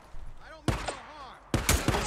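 A light machine gun fires in Days Gone, two heavy bursts of rapid shots separated by a short pause, loud and close, with faint game sounds between them.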